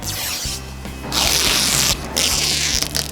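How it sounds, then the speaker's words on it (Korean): Bursts of crinkly, hissing plastic wrap being peeled off a new Hyundai Grandeur Hybrid car interior, loud and close, in a few separate tearing strokes. "아 이 비닐 찍 소리"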